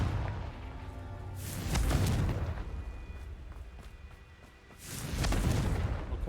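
Two Confringo blasting-spell explosions in Hogwarts Legacy, each a heavy booming burst with a rumbling tail, a few seconds apart and fairly close.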